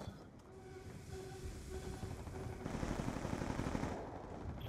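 Sustained automatic PDW fire in Black Ops II, a rapid, dense rattling burst that swells louder in the second half, with a faint tonal hum underneath early on.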